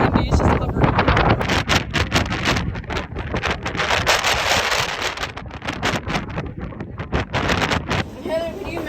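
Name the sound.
strong wind at the beach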